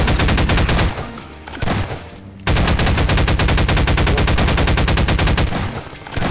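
Automatic turret in a Garry's Mod zombie survival mode firing long, loud, rapid bursts of gunfire, with a short pause partway through before the continuous stream resumes.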